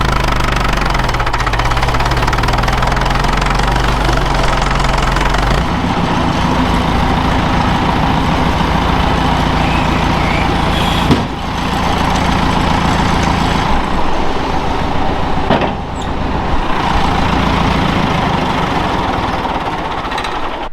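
A Massey 50 tractor engine runs close by on a farm, a loud continuous diesel chug with a steady knocking rhythm that shifts in pitch once early on and holds for the rest.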